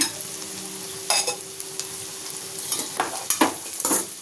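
Bitter gourd (boda kakarakaya) fries in oil over a medium flame, a steady close hiss with several sharper crackles and spatula scrapes scattered through the short stretch, with no talking.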